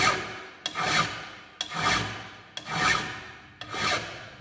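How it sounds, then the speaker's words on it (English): A hand file working a mild steel round bar makes four even forward strokes, each a close, rasping scrape roughly one second apart with brief quiet gaps between. "move the file in forward direction only, and also you have to maintain this flat position"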